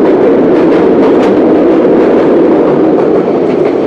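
The Subarna Express runs from Chattogram toward Dhaka with a loud, continuous rolling rumble of wheels on track, heard steadily from close by.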